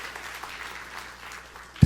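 A congregation in a church claps, a soft, fairly distant patter of applause spread across the moment, ending with a brief loud knock close to the microphone.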